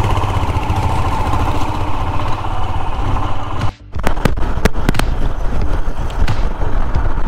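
A motorcycle rides along a road from Dibrugarh toward Arunachal Pradesh, giving a loud, steady engine drone mixed with wind rush. A brief dropout and a few sharp clicks break it midway.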